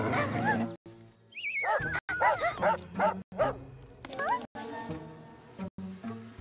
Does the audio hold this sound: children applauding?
no